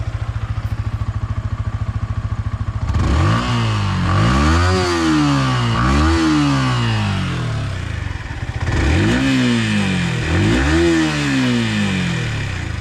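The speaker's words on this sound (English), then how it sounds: "now let's hear the exhaust note" A Yamaha R15 V4 motorcycle idles with a steady putter, then revs up sharply several times in quick pairs, each rise and fall of the exhaust note loud and close.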